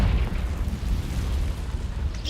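A Confringo fire spell explodes in Hogwarts Legacy as a sustained rumbling blast, dense and loud from start to finish, a low booming roar that slowly thins with no voices over it.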